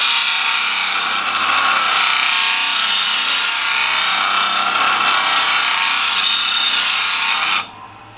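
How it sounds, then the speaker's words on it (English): An angle grinder fitted with a 36 grit wheel grinds black scale off steel, giving a loud, continuous, hissing abrasive whine that holds steady for about seven seconds and then drops away abruptly. "The 36 grit wheel will take off a lot of steel fairly quickly"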